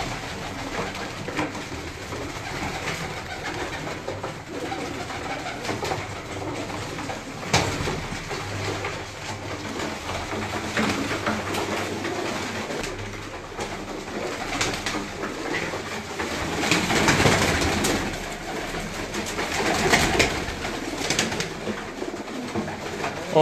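Pigeons coo and rustle inside a flying-pigeon loft with three wooden cages and central ventilation, a steady chorus of soft cooing throughout, busier and louder toward the end, with no talk.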